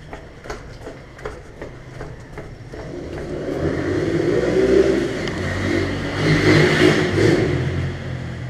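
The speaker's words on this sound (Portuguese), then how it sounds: "tem um cara passando de moto aqui" A motorcycle engine approaches and grows louder, revving as it passes close by, after a few faint clicks.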